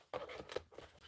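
Rotary-style cut through fabric along a ruler on a quilting table, a short gritty slicing sweep with soft scraping, quiet and close.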